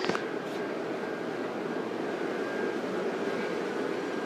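Gemmy inflatable yard decorations filling with air from their blower fans, a steady low droning hum with a faint tone, continuous and fairly quiet throughout.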